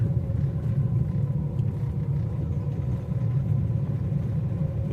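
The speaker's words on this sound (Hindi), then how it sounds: "ये जो आप एक आवाज़ सुन रहे हैं अभी, जैसी गाड़ी में जैसी एक्सीलरेटर करूँगा तो किट किट किट किट की आवाज़ आएगी।" Idling 2018 Hyundai Xcent diesel engine, a steady low rumble with a faint regular ticking running through it, heard up close and alone without any talk.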